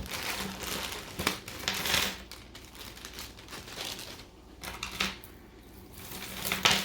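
Hands rummage through a bag of mixed jewelry pieces, making crinkling plastic rustles and small clinks in irregular bursts, close and fairly quiet, with no talking.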